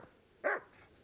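A single short dog bark or yip from a dog in the video game Kingdom Come: Deliverance, one brief burst in a quiet, otherwise empty stretch.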